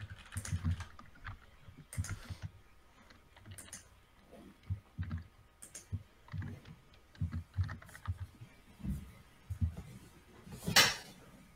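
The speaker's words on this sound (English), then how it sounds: "I feel like my mic didn't used to pick up a keyboard before." Someone types on a computer keyboard in irregular bursts of quiet clicks and clacks, fairly close but soft, with a louder clatter near the end and no talking.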